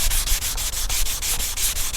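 Wet block sanding of primer on a car body after bodywork, a loud close rhythmic rasp of back-and-forth strokes, roughly four per second, with no voices.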